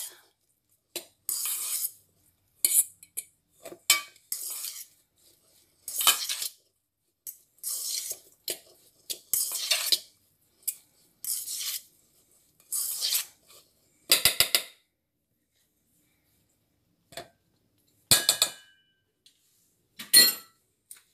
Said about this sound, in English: Take a pastry brush and butter your muffin tins.